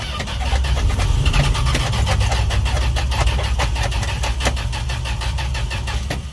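A Dodge D100 truck engine cranks and runs in the rain, a steady loud mechanical rumble with rhythmic ticking pulses filling the whole stretch, close to the recorder with no talking.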